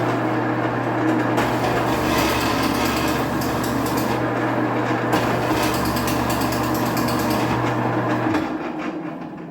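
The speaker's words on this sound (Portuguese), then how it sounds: "Eu preparei essa peça inteira hoje pra poder ralar tudo." A whole piece of frozen ham being ground by a machine in a delivery pizzeria kitchen, giving a loud, dense, continuous grinding roar with a steady motor hum that winds down at the end.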